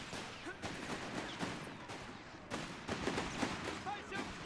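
Dense gunfire from infantry and vehicles in the real-time strategy game Company of Heroes 3 crackles in rapid, overlapping bursts at moderate volume. A faint voice talks underneath.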